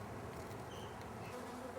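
Honey bees buzz densely inside a very populous hive, a faint, steady, continuous hum with no talk over it.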